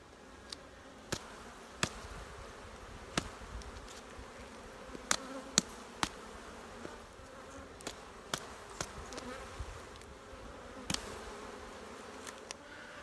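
Honey bees hum steadily at a low level through a December honey harvest, with sharp clicks and knocks from handling the hive scattered over the buzzing and no talking.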